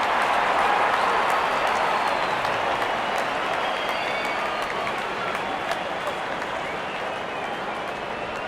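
A cricket stadium crowd applauds a boundary during an India v Australia match, a dense, sustained wash of clapping and cheering heard at a distance, steady throughout with a slight fade toward the end.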